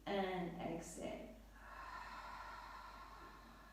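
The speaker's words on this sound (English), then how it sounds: "Open the mouth and exhale." A deep, open-mouthed exhale during a gentle yoga flow, heard as a soft breathy rush that follows a brief sharper intake, close and fairly quiet, trailing into a faint sustained airy tail over a low room hum.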